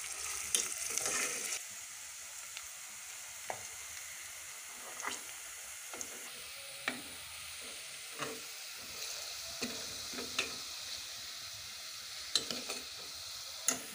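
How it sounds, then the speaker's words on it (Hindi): Onions frying in a pan until light brown, a soft continuous sizzle with periodic spoon taps and stirring scrapes, close but fairly quiet, no voices. "बहुत ज़्यादा ब्राउन नहीं करना, लाइट ब्राउन करना है।"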